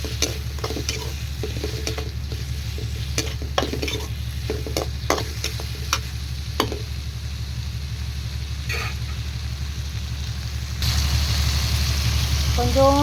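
Tomato and bottle gourd sautéed in a pan for chutney, a long steady sizzle with a low background hum and irregular scraping stirs, growing louder and brighter near the end.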